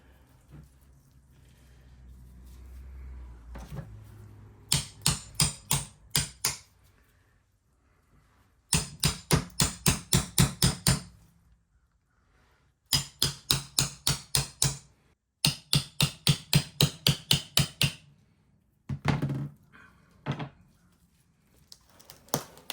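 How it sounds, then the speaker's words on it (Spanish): A whitetail deer rib rack is cut into tomahawks, the ribs separated from the spine in several close bursts of rapid, sharp strikes with short pauses between them and no talking. "Y lo que vamos a empezar de acá arriba a cortar todo este costillar."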